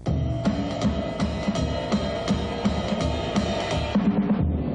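A drum set lays down a 4/4 swing rhythm in a jazz band setting, with regular cymbal and drum strokes over a sustained bass and harmony bed, steady and full with no voices.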